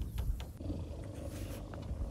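Cheetah cubs resting in the shade on the Serengeti plains purr in a soft, low, rhythmic rumble, faint and close, with no talking over it.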